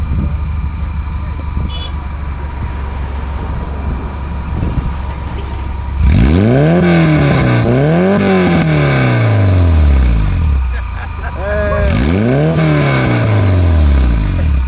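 A Volkswagen Beetle with a swapped-in Subaru engine idles, then revs up several times in rising and falling bursts, loud and close, with voices faintly underneath.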